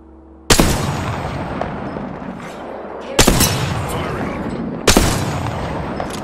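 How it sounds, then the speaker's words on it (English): Three loud, abrupt gunfire blasts in Apex Legends, each bursting in sharply and trailing off into a rumbling decay over several seconds, with game voice lines faintly underneath. "Getting shot at."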